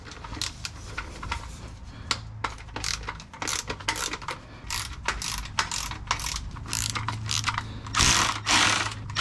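A ratchet with a T40 bit loosens the bolts on a car's transmission pan, sending rapid metallic clicking bursts in quick repeated strokes with brief pauses, close and fairly loud.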